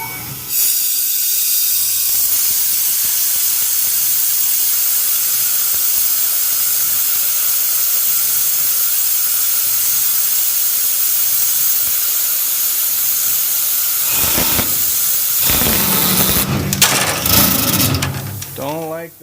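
Tormach PCNC 1100 CNC mill drilling an AR-15 gas block with a 3/16 drill, a loud steady hissing whir of spindle and coolant that runs nearly unchanged, then breaks into clattery bursts and a voice near the end.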